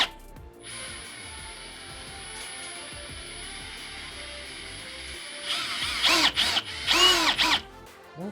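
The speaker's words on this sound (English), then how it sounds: "we're going to take our screw and go right in to the point where we know we can slide it right over" A power drill drives a screw into a wall while outdoor speakers are being mounted, a steady close whir building into louder, ragged bursts of grinding and ratcheting near the end.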